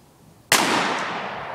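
A single sharp rifle shot fired at a golf ball target, loud and close with an abrupt crack followed by a long fading ring.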